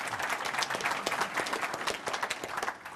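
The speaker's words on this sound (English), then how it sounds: "just to get one round of applause for everyone" A conference audience at a business event claps in a short, fairly quiet round of applause with dense overlapping hand claps throughout.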